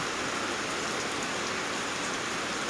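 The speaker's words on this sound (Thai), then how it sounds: "ฝนตลบอบอวนมาเลยนะคะ" Heavy rain pours down outdoors in a windy, darkening storm, a dense and steady hiss of drops hitting surfaces that stays loud and unbroken throughout, with no voices.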